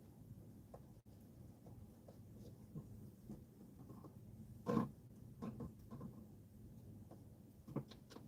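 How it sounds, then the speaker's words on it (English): Distant thunder from an approaching storm rolls as a low, muffled rumble across a quiet background, swelling briefly about halfway through with a few fainter grumbles after. "Man, that thunder's getting louder."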